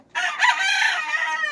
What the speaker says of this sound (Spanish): Un gallo fuerte.